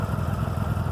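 Motorcycle engine running in snow, a steady, loud, close idle with a low throbbing pulse and mechanical clatter throughout.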